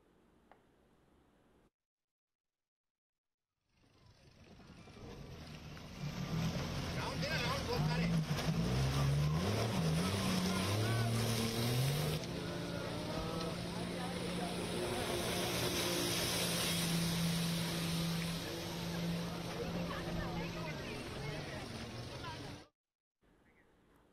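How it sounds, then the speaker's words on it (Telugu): Water scooters racing on a river in Bhopal during Christmas festivities, their engines building into a loud, sustained roar with shifting pitch that holds steady for most of the stretch before cutting off abruptly. "స్థానిక నదీ జలాల్లో నిర్వహించిన వాటర్ స్కూటర్ రైడ్లో పలువురు నగరవాసులు ఉత్సాహంగా పాల్గొన్నారు."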